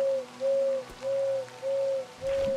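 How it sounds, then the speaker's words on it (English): An owl hooting in the video game Crow Country: a run of about five even, steady-pitched hoots repeating at a regular rhythm, clear and alone against a quiet background. "so there's an owl here."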